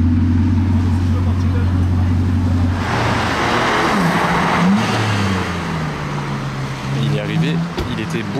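A Bugatti supercar on a Paris street at night rumbles loudly at idle, then roars through revs and passes with rising and falling engine sweeps echoing off buildings, while voices talk over it.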